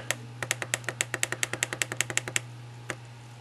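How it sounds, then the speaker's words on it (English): Small controls on a Sansa Fuze MP3 player click sharply in a quick, steady run of about twenty taps, followed by a pause and one last click, all over a faint steady hum. "I'm getting tired of that clicking"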